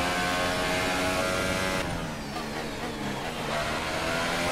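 A Formula 1 car engine in a racing video game screams at high revs with DRS open, a loud continuous whine that shifts pitch partway through, with no talking.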